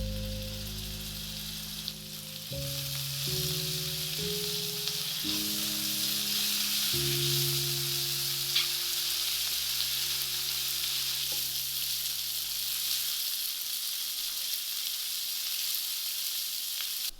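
Spice paste fries with onions and potatoes in a hot pan, giving a loud, continuous close sizzle that holds steady throughout over a low droning tone.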